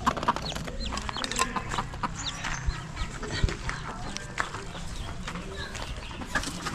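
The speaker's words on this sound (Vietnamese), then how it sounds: "Đây, gà con." Chickens and newly hatched chicks on a farm in northwest Vietnam chirp and peep in a dense, continuous chorus, with clucks from hens mixed in nearby and faint human voices in the background.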